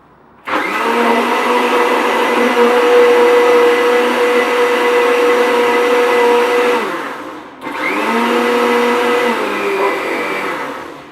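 A loud blender mixing a protein shake whirs steadily for several seconds, stops briefly, then starts again with a high motor whine, close and alone.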